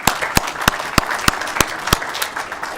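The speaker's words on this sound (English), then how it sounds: "Let's give him a big round of applause." Sparse applause from a small city council meeting audience, a handful of distinct, evenly spaced claps standing out over a steady room hiss for a few seconds.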